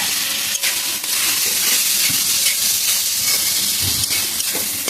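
Taro flowers cooking with shrimp in a hot kadai, a loud steady hiss and sizzle with occasional scraping knocks of stirring, close up and without talk.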